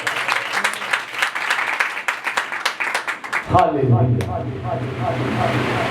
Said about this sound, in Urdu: آئیں ایسے دوست کے لیے زوردار تالیاں بجائیں